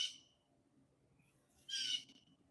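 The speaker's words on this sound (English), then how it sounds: "Y'all hear that hawk up there?" A hawk calls from high overhead in quiet outdoor woods during a peaceful deer watch: a sharp, high cry at the start and a louder, longer screech later, both slightly distant over soft background hush.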